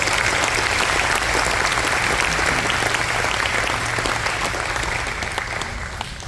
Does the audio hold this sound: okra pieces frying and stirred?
no